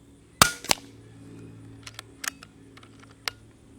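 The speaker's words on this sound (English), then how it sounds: "Cocking on the Skyhawk is moderately light" A Diana Skyhawk .22 regulated air rifle is cocked and cycled with two sharp mechanical clacks, followed by a few fainter clicks and taps against quiet background.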